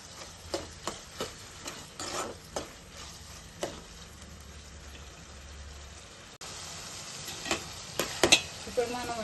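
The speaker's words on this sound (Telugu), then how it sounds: "ఇలా మగ్గిన టమాటాల్లో 1 స్పూను అల్లం పేస్ట్ వేసి వేపుకుందాం." Ginger paste frying in softened cooked tomatoes for gongura nethallu curry, a quiet sizzle with repeated stirring taps of a spoon against the pan, louder scraping toward the end.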